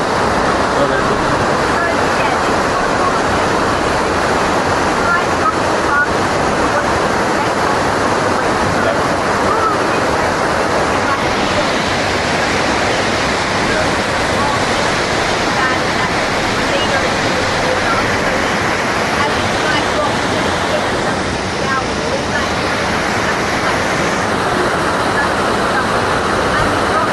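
Water rushes and flows continuously and loudly for the whole stretch in a steady broadband roar, with voices occasionally heard underneath.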